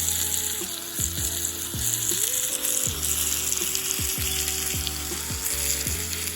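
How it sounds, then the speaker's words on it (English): Meat browning in a pot for a pot roast, a steady loud sizzle running throughout with several clanking thuds of utensil or lid against the pot, no talking. "I'm about to get my meat and put it in there. just some browning, y'all."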